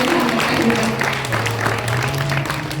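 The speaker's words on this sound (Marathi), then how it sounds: "एकदा जोरदार टाळी तुझ्या मैयासाठी" Audience clapping at a sung religious discourse on the Narmada parikrama, a dense burst of applause blended with a voice and music.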